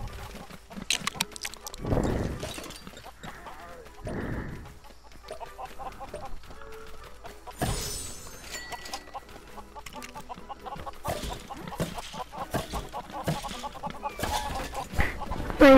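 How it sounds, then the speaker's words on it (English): Chickens cluck in the Lego Worlds video game, with repeated bursts of fowl calls spread through the stretch alongside scattered game sounds and no talking. "Oh, the chickens."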